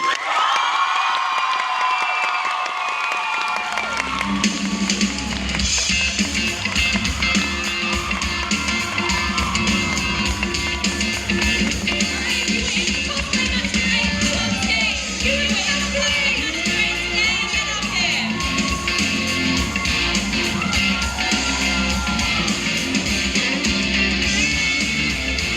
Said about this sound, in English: can we all get a huge round of applause for Hazel?